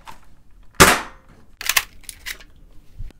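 A Dart Zone Max Stryker foam dart blaster fires with a sharp, loud crack, followed by a few quieter mechanical clacks of reloading, close up and without speech.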